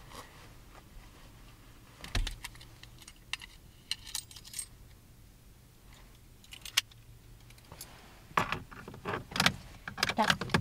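Car keys jangle and clink in bursts, a sharp rattle early on and a busier cluster of metallic jingling near the end, close by with no talking.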